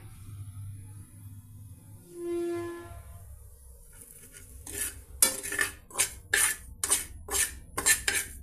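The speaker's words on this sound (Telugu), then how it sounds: "ఈ రవ్వని ఈ విధంగా కొద్దిగా ఫ్రై చేసుకుందామండి." Bombay rava (semolina) being dry-fried in a pan, with a quiet start giving way to a run of sharp, rhythmic metal scrapes and clinks of a spoon against the pan, fairly close.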